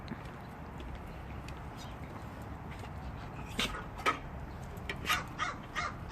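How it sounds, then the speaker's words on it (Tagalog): A crow caws several times in a backyard, a few sharp rasping calls in a row toward the end, moderately near over quiet outdoor ambience. "Oh, there's the bird."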